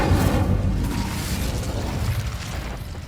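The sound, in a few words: Incendio fire spell from Hogwarts Legacy video game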